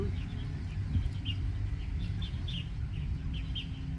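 Faint, scattered bird chirps over a low, steady rumble of background noise.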